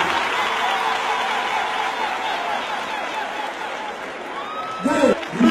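Crowd applause at a public gathering in Cap-Haïtien, Haiti: dense, steady clapping fills about five seconds, and a voice cuts in over it near the end.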